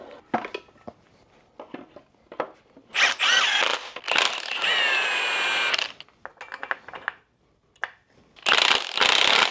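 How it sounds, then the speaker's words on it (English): E30 M3 alternator pulley turned by hand, giving bursts of gritty, ratcheting whir with a brief ringing whine in the middle, close up, with short clicks and rustles between spins. "That's how an alternator should sound."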